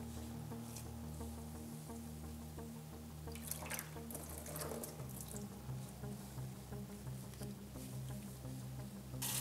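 A wet wool skein, dyed using crepe paper, is lifted out of water and drips steadily into a basin, with a splashy burst of running and falling water midway over a constant low hum.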